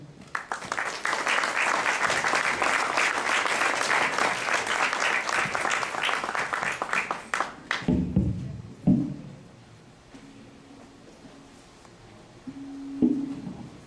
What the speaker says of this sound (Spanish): Le cedo el micrófono al doctor Eduardo Vicente Nibón Bolán, para quien pido un fuerte aplauso